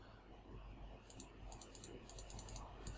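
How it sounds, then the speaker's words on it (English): Quiet bursts of computer keyboard typing, quick clusters of light key clicks with short pauses between them, close and faint over a low room hum. "Let me just type in Old English text for the body style."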